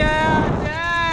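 Wind gusts across a dinghy out on open water in Mexico, a steady loud roar and buffeting rumble running the whole way, with a person talking over it.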